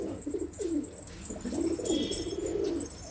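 A male hünkar pigeon coos repeatedly in a balcony coop, its low rolling calls rising and falling in close, steady bursts over faint background chatter from other birds.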